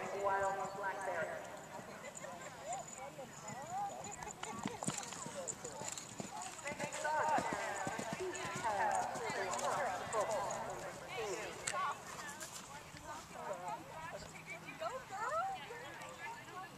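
Horse hooves striking the ground at a gallop on a cross-country eventing course, a steady rhythmic clip-clop under a busy outdoor mix with voices and crowd noise throughout.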